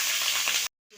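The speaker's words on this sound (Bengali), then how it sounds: "তেজপাতা আর পাঁচফোড়ন ফোড়ন দিলাম, কাঁচা লঙ্কাটা দিলাম" Bay leaf and five-spice seeds tempering in hot oil in a Bengali kitchen, a loud, close sizzle that cuts off abruptly, then a faint hiss returns.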